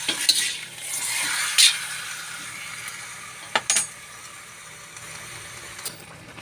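Ingredients for catfish adobo in coconut milk are sautéed in a pan: a steady sizzling hiss runs throughout, broken by a few sharp utensil clacks against the metal.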